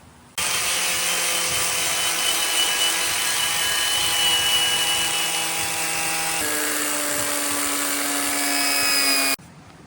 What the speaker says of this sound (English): you'll have to at least grind all the seam sealer in this edge